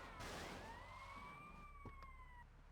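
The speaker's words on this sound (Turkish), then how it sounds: "Polis arabası burada kalmış." A police car siren in the video game Grand Theft Auto: Vice City – The Definitive Edition wails in a smooth rising-and-falling tone, loud and close, with a low engine rumble underneath and a brief thud partway through.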